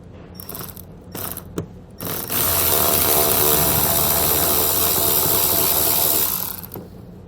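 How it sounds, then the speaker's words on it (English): A power tool loosening T15 Torx bolts holding the inner fender well of a 2022 Chevrolet Equinox, a few short bursts and then a long, loud continuous whir up close. "we're going to have some more of the T15 bolts that are holding the inner fender well on. Let's go ahead and get those off."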